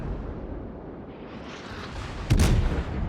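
A Des Moines cruiser in World of Warships fires a high explosive shell, heard as a single heavy boom that bursts out after a low rumbling lead-in and then rolls into a sustained roar.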